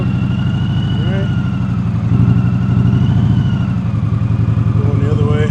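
An Indian motorcycle engine held near 1500 RPM at slow speed gives a steady, loud low throb that swells slightly midway, with faint tonal whine above and voices talking over it.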